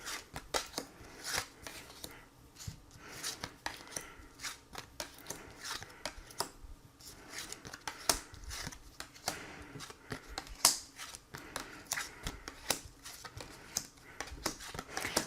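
Tarot cards are shuffled and handled close by for a card reading, a quick irregular flutter of riffling, slapping and sliding card edges that runs on without pause.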